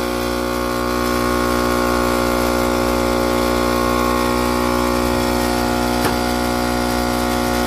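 A portable air compressor runs continuously to inflate a car tire, giving a loud, steady buzzing drone with a single sharp click partway through.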